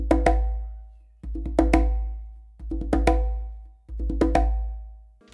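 Conga drum working through a syncopated exercise, soft ghost notes leading into sharp open slaps, the pattern cycling four times with a deep ringing boom beneath each phrase, close and unaccompanied.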